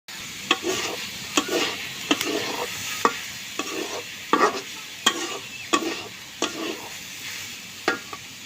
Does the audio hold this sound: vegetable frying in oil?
yes